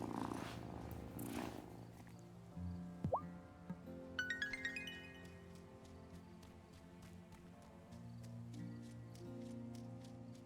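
A cat in the Wylde Flowers game purrs softly and steadily while getting head scratches, a low continuous rumble with light gentle chime-like game effects layered over it.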